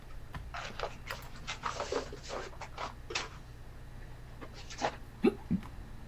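Hiccups heard near the mic in a home kitchen, a few short, sharp catches late in the clip over quiet clatter and faint room noise.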